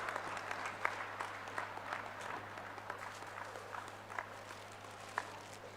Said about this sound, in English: Can we have a huge applause for unveiling and launch of this book